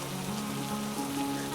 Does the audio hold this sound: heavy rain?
yes